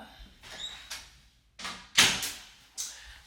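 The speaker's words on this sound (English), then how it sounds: "Let me close this door." An indoor door swings and is pushed shut, giving a couple of soft knocks and thuds with one sharper bump of it closing, heard alone at moderate volume.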